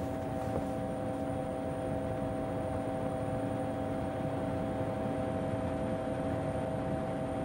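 Steady engine drone with tonal hum inside a helicopter in flight, a continuous even noise with no talk over it.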